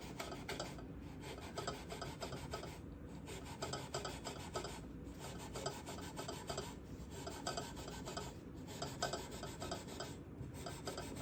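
Steady rubbing and rasping strokes on a Brazilian rosewood guitar fingerboard as it is cleaned, a close, continuous scrubbing texture with a faint rhythmic pulse, quiet and without any voices.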